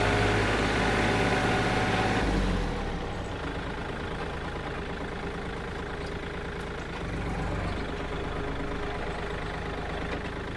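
Kubota L3218 tractor diesel engine running loud and close, a steady throbbing chug that drops in level after a couple of seconds and shifts pitch slightly as gears are changed.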